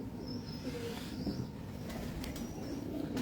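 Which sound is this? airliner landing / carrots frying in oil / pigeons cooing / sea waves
pigeons cooing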